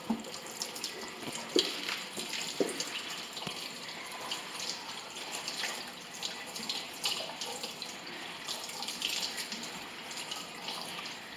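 A deer skull being prepared for a European mount is rinsed under running water: a steady, close gush from a tap with splashing and small irregular spatters throughout, no voices.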